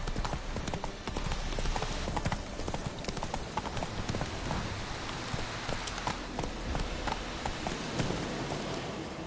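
Roach the horse gallops in The Witcher 3, a steady rapid clip-clop of hooves running continuously under a dense game soundscape with ambient noise.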